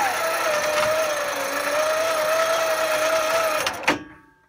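Electric motorcycle lift raising on a receiver-hitch bike rack, a steady motor whine running continuously for several seconds before stopping with a clunk, close by.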